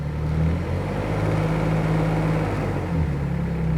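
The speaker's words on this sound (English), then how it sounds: "Obviously you can hear the machine running, so it's running." Bull 18-X machine's engine runs steadily at a constant pitch, a loud, continuous low hum and rumble close by with no voices over it.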